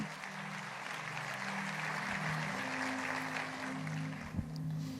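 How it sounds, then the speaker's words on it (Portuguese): A church congregation applauds during a worship service, a soft, steady wash of clapping from a distance, with low sustained musical tones underneath. "dê um lindo aplauso à palavra que nós lemos agora"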